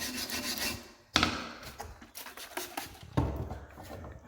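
A wire brush scrubs dried acrylic paint from wooden stairs wetted with methylated spirits, giving a few rough, raspy strokes close up, each one starting with a sharp scrape.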